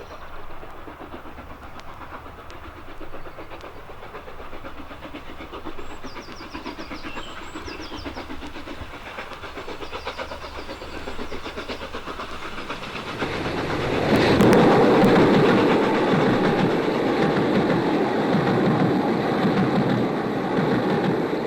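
A train runs along the rails of the Waverley Route, a low steady rumble that swells into a louder, rushing roar about two-thirds of the way through and holds there.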